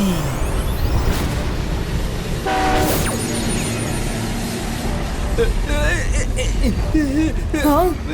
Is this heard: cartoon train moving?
yes